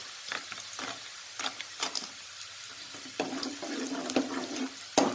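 Peanuts and curry leaves drop into a hot pan of oil for a puffed-rice snack, with bursts of crackling sizzle and clattering stirs coming in uneven waves, then a fuller steady fry near the end.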